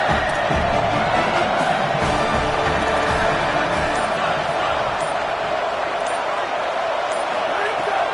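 A large college football stadium crowd roars steadily throughout, cheering on its defense, a dense wall of noise that never lets up, with a voice carried underneath.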